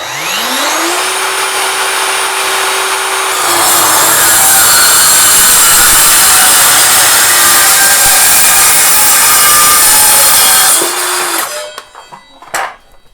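A Metabo MKS 18 LTX 58 cordless circular saw spins up with a rising whine, then bites into material with a loud, steady grinding cut for several seconds before spinning down.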